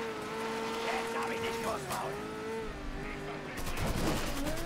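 Rapid bursts of gunfire in Mafia 3 crackle over a steady engine drone, growing denser toward the end.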